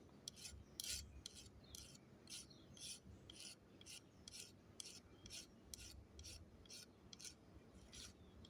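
A metal file rasps over copper wire ends in short, regular back-and-forth strokes, about a dozen crisp scrapes close by, with no talking.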